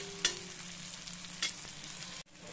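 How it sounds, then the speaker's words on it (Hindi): Besan pieces stir-fried on high flame in a pan, a quiet steady sizzle with a few brief scrapes of a spoon stirring. "फ्लेम हम हाई पे ही रखेंगे और इस तरह से इसे चलाते हुए फ्राई करेंगे"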